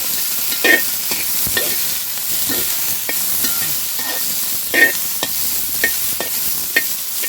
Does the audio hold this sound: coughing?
no